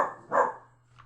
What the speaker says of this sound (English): And the dogs say hello. They know when the mail arrives.